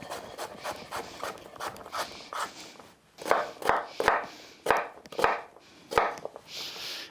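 A sharp knife cuts through a turnip on a board, a series of firm chopping thuds in an irregular rhythm, slower at first, then heavier separated strokes, close up with no talk.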